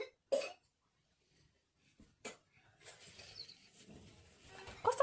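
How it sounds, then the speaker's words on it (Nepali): A person coughs twice indoors, with two sharp, close bursts about two seconds apart, followed by faint rustling and quiet background noise. "कस्तो खोकेको तिमी"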